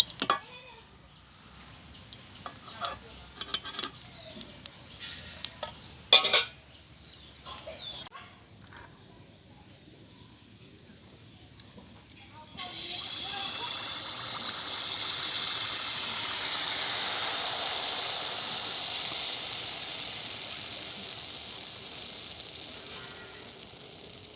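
Pitha rice cakes frying in hot oil, a steady loud sizzle that takes over partway through, after a stretch of quieter clatter and handling noises.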